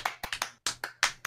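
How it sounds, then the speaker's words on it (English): Short bursts of video game clapping, about eight sharp claps in an irregular rhythm, close and fairly loud with brief gaps between them and no voices over them. "That was a clap, though"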